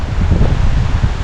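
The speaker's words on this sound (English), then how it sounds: "Man, it's windy." Strong wind on the Superior Hiking Trail roars steadily across the microphone with constant low buffeting, loud and close throughout.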